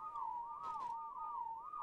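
A character's whistle in the video game ARK: a single steady, warbling tone that wavers up and down continuously, alone and fairly quiet.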